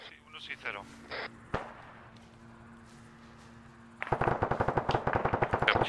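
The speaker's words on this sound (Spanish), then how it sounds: "Ya les están disparando." Airsoft gunfire during a milsim game among rocks near a village: a few scattered shots and muffled voices come first, then a loud, close, rapid string of bursts in the closing seconds.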